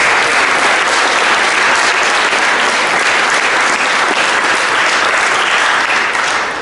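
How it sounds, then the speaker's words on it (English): Loud, sustained audience applause fills a bill signing for Rhode Island's extended abuse statute, a dense unbroken clapping from a sizeable crowd that carries evenly through the whole stretch. "So let's give her a big round of applause."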